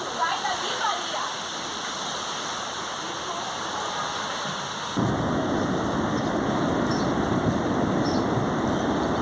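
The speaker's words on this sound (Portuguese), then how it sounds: "Esse dali é um tornado." Heavy rain roars steadily in a tornado storm at Rio Bonito do Iguaçu, Paraná, with rumbling thunder underneath; the downpour grows louder and denser about halfway through, and faint voices are heard.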